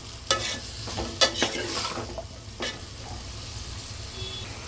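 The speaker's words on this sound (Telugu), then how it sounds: "ఆయిల్, పసుపు, ఉప్పు అంతా దీనికి పట్టేలాగా కలిపి ఒక 10 నిమిషాలు లో ఫ్లేమ్లో ఉడకని." Cauliflower curry being stirred in a pan with oil, turmeric and salt: a few sharp scraping clacks of a spoon against the pan, the first clustered early and the last a little later, over a soft steady sizzle.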